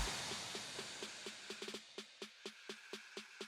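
A small build-up effect in a slap house chorus: evenly spaced percussive hits that quicken and tighten into a short roll, then continue as regular punchy beats, faint and alone.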